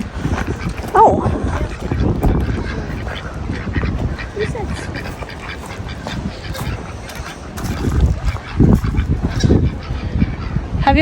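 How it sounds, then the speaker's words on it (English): A white duck calls loudly outdoors with repeated honking quacks, mixed with outdoor background noise and people talking nearby. "have you ever seen that white duck, Oska?"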